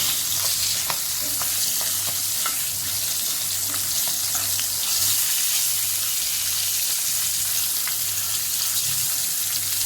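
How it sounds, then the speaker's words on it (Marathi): Green chillies with popped mustard seeds and a little salt stir-fry in hot oil, a loud, dense, unbroken sizzle close up with faint crackles and spoon scrapes throughout, no one talking. "मोहरी चांगली तडतडली, त्यामध्ये मिरच्या टाकून घ्यायच्या आणि इथं आपल्याला मिरच्या परतून घ्यायच्या चांगल्या"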